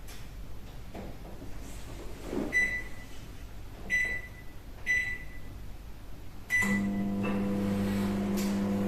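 A kitchen microwave oven sounds several short electronic beeps spaced a second or so apart, then starts up with a steady, loud hum that carries on to the end, with no talking.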